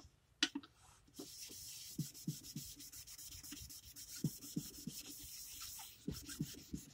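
Close, quiet rhythmic rubbing of 400-grit sandpaper by hand on a car headlight lens, a steady series of short gritty back-and-forth strokes with faint scratches between them.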